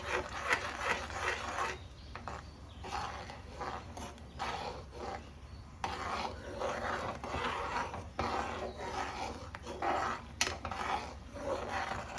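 A spoon scrapes and stirs beaten egg around a pan while making egg semiya, a continuous close scratching and clinking with small irregular knocks.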